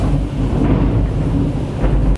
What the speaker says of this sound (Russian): дрожит, испугалась грома